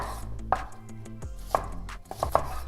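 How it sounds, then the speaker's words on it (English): A knife cuts cucumber into halves and quarters on a board, with four or five sharp, close chops spaced unevenly over a couple of seconds and no talking. "So I'm just going to do some cucumber halves and quarters."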